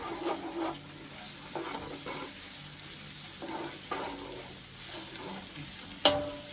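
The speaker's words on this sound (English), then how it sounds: "so we're gonna stir that on up like that" Garlic and onion fry in a pan while a spoon stirs through them in slow, evenly spaced strokes over a steady close sizzle, ending with one sharp metallic tap on the pan; nobody speaks.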